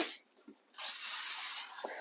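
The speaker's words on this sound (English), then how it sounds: "Spray everything." Cooking spray hisses over garlic chicken and roast vegetables. A short puff comes first, then a longer continuous spray lasts more than a second, close and fairly loud.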